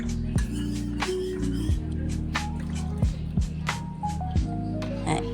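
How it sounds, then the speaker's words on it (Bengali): Cornflour pudding mixture is poured slowly into a pot, producing scattered soft drips and wet splats over a steady low kitchen hum, with no voices. "তো আমি আস্তে আস্তে করে ঢালছি, দেখো।"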